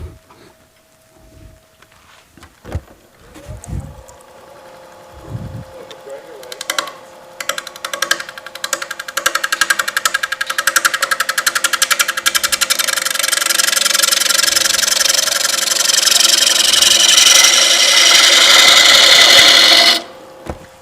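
A woodturning lathe taking a very fine, thin cut: knocks and clatter at first, then a dense buzzing cutting noise builds and holds steady and loud for several seconds before stopping abruptly.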